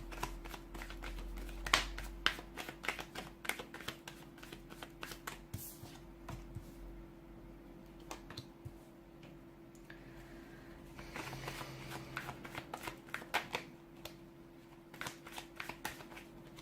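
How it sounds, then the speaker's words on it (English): Tarot cards are shuffled by hand at close range, producing a long run of soft, irregular papery flicks and slaps with brief pauses, over a faint steady hum and no talking. "give the cards a shuffle and begin."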